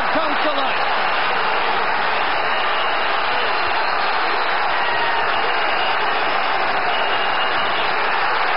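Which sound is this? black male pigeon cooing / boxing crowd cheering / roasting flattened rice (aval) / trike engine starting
boxing crowd cheering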